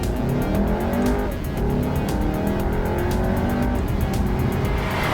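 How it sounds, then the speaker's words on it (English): A 2020 Kia Stinger GT's six-cylinder engine, with a partly synthesized sound, pulls hard under steady acceleration, a loud continuous drone whose pitch climbs smoothly with rising revs from inside the car. "A little bit fake, but 6-cylinder sound."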